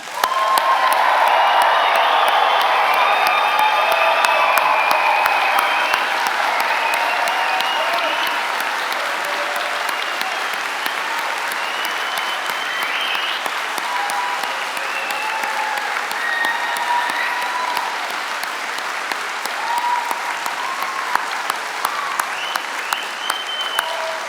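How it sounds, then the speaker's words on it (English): A large crowd at a London degree ceremony applauds and cheers its graduates in a long, dense ovation with scattered whoops and voices, loud at first and easing slightly but sustained throughout. "can we just give it one last big effort and round of applause for today's success of our graduates?"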